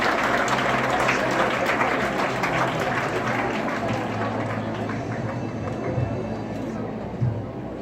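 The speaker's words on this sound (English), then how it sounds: "Let's give Miss China Gabriel another big round of applause." Audience at a leadership seminar at St. Theresa's College applauds with a broad, sustained clatter that slowly eases, some crowd voices mixed underneath.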